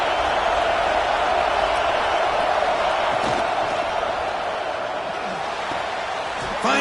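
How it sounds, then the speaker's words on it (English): A packed stadium crowd roars steadily in a football video game, a dense continuous wall of cheering and rumble that holds at high level throughout with no talk over it. "listen to this crowd noise. This stadium is vibrating."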